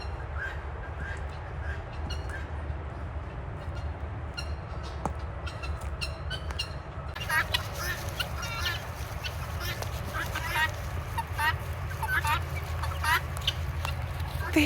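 Domesticated guinea fowl calling outdoors in repeated rapid, harsh chattering bursts that grow busier and louder in the second half, over a steady low rumble of background noise.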